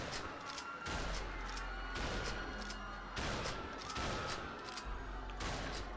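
Shotgun in Who Wants To Be A Murderer firing several heavy booming blasts about a second apart, each followed by a short gap while it reloads, loud and close.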